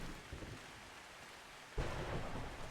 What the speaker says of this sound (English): Very stormy today.